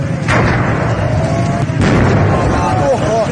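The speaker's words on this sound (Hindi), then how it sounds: "धमाकों की आवाज से पूरा इलाका थर्रा गया," Two sharp, loud blasts go off a second or so apart as LPG cylinders explode in a burning workshop, over a continuous heavy roar with faint rising cries or wails behind it.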